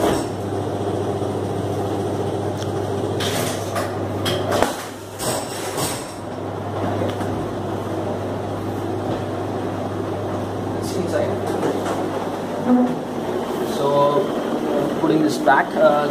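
A semi automatic strapping machine runs with a steady low motor hum, with a cluster of sharp mechanical clacks partway through and scattered lighter clicks, and a voice speaking nearby.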